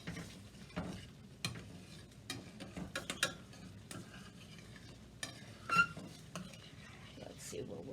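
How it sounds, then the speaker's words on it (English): Rib sauce with lemon being stirred in a pot, a spoon scraping and clinking against the sides in quiet irregular strokes, close but faint, with a soft sizzle underneath. "I gotta mix it up good because I just put the lemon in there"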